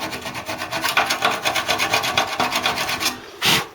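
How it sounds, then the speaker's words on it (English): Sharp scraper pulling flaking paint off the fuel tank of a Suzuki Bandit motorcycle, a close series of quick rhythmic scraping rasps ending in one louder scrape, with no talking. "So sharp scraper, get it nice and sealed."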